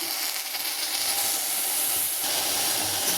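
Gotu kola (vallarai) leaves drop into hot oil in a pan, giving a steady, bright sizzling hiss that holds loud throughout with no break.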